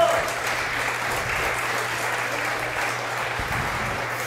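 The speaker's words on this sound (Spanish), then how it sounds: "Y un aplauso para Lady Dusha." A live show audience applauds for Lady Dusha, a full steady round of clapping over a low hum, with a voice briefly talking near the end.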